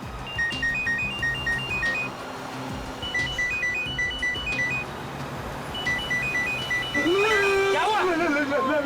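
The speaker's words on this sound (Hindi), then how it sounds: "घंटी बज रही है लेकिन उठा नहीं रहे।" A phone ringtone sounds in a vehicle's luggage compartment during a police drama scene, repeating a melodic beeping ring pattern in bursts over background noise and talk, with a swooping electronic tone near the end.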